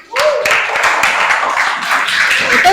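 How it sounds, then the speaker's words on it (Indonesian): A classroom group gives a short burst of clapping, close and brisk, made up of many individual hand claps, with a few voices mixed in toward the end. "Berikan tepuk tangan."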